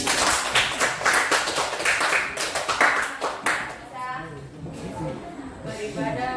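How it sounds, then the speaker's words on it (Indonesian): Audience members at an Islamic religious study session clap in bursts of distinct, fairly close hand claps that thin out after a few seconds, while a voice speaks over and after the clapping. "Oke, tepuk tangan."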